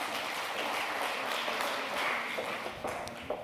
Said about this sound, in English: Please, applause to Liga.